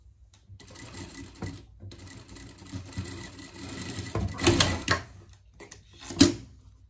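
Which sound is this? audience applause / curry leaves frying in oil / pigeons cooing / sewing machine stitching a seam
sewing machine stitching a seam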